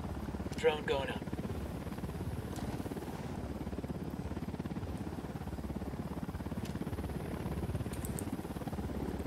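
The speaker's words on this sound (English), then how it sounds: "Watch the helicopter." A helicopter in Ghost Recon Wildlands churns steadily with a continuous low rotor thrum throughout, moderately near, with brief sharper sounds early on.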